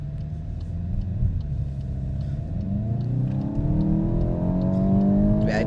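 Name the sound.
2026 VW Golf GTI accelerating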